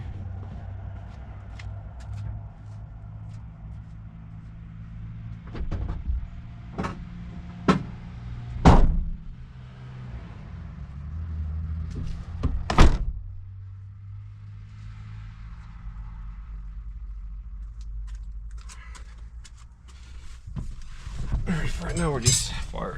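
A 2002 Mitsubishi Montero Sport has its hood and doors shut: several sharp metallic slams spaced seconds apart, close and loud, with a person talking between them and ambient rumble underneath.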